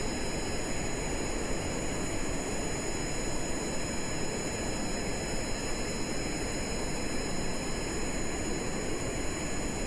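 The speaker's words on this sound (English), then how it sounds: "I'm gonna go ahead and let this ride on the runway without pulling up until the thrust-to-weight ratio peaks, or we run out of runway" A steady, unbroken roar of an F-5 Tiger II jet engine in a video game while the plane rolls down the runway, constant and loud, with a high whining tone and no talk.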